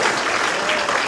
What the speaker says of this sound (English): let's have a round of applause for the GOP chairman, Mr. Posey, who's here as well.